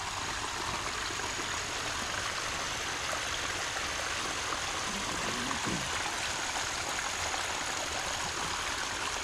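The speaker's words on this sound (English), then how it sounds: "This is where the waterfall starts, trickles down through there." A small waterfall trickles into a garden koi pond, a steady broadband rush of falling water that fills the whole span evenly and continuously.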